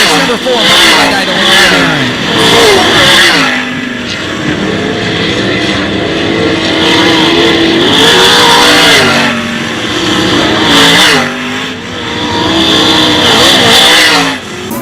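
Sprint cars roar around the dirt oval at Attica Raceway Park, engines surging and fading in repeated waves as they pass, loud and continuous, under a race announcer's voice.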